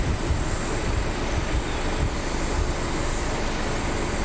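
A Southwest Boeing 737 MAX 8 arriving at Columbus John Glenn International Airport from Orlando makes a steady, broad jet roar with a thin high whine above it, sustained and fairly loud throughout.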